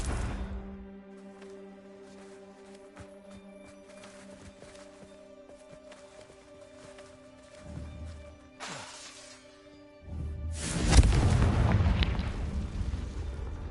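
A Confringo fire spell in the video game Hogwarts Legacy, a deep rumbling blast that bursts loudly near the end amid a sustained game backdrop of tonal hums and smaller thuds, with no speech.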